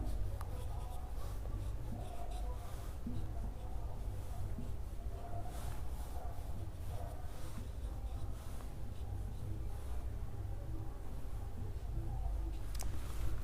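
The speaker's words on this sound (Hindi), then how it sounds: "मैं थोड़ा नंबरिंग लिख देता हूं साथ के साथ" Chalk or marker scratches steadily across a classroom board as numbers are written during a reasoning lecture, a faint continuous scraping with no talk over it.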